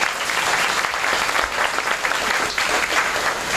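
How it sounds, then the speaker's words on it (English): Steady, dense applause from a crowd at Disney-MGM Studios, continuous clapping at an even level throughout with no talking on top. "give him a big round of applause"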